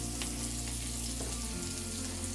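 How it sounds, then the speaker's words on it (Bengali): Ginger garlic paste and spices frying in hot oil for chicken curry, a steady loud sizzle with a constant hiss and no pauses. "আমি এখানে আদা রসুন পেস্টটা দিয়ে দিচ্ছি যাতে গরমে গলে যায়"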